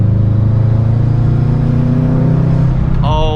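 A 2009 Subaru WRX engine pulls hard after a downshift, its loud, close, steady low rumble climbing in pitch for about three seconds before easing off, with a brief higher tonal whine near the end and no talking.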